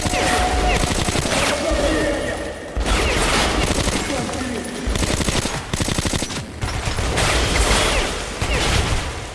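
Metro Last Light firefight in which gunfire and explosions burst out in dense, loud clusters with short pauses between them, while a voice talks over the shooting.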